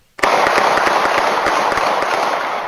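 Rapid gunfire near a nature park in southwest Houston, a loud burst of many sharp cracks in quick irregular succession that starts abruptly and keeps going, heard without talk.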